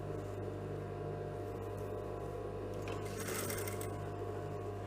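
A sewing machine runs steadily while stitching a cut-arm dress, a continuous mechanical hum with a faint higher whir rising briefly toward the end, with no talk over it.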